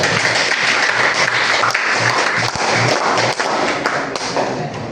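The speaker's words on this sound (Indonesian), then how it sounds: "Tepuk tangan semuanya." A classroom of children claps together, dense steady applause with some thumps and taps throughout, fading slightly toward the end.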